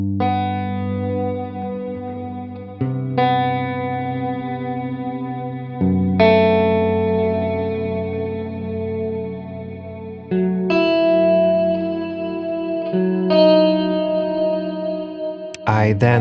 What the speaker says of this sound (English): So this time I decided to try out a few ideas on my electric guitar, and after some trial and error I came up with this melody.